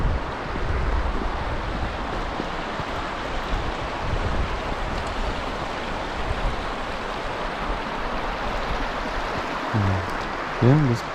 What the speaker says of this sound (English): we'd come back into the creek sound